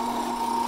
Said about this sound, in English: just a little tool tip for drilling lots and lots of holes in three layers of canvas